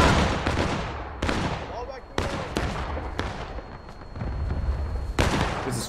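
A musket volley cracks out in War of Rights, a Civil War shooter: a ragged fusillade of loud overlapping gunshots with several sharp reports spread across the scene and continuous battle noise in between.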